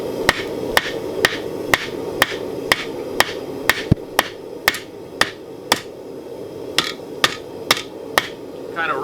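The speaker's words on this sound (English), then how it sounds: "we've got our hammer striking one side and the anvil is going to be doing work on the other side" A hammer beats hot steel on the horn of an anvil while a spoon is forged, about twenty sharp ringing blows at an even, steady rhythm, loud and close with no talk.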